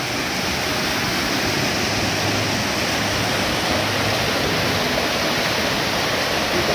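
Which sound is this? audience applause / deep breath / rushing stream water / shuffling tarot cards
rushing stream water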